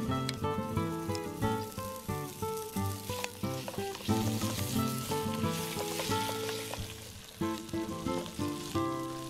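Rabbit pieces brown in plenty of olive oil in a pan, giving a loud, continuous crackling sizzle with scattered pops and spits and no talking.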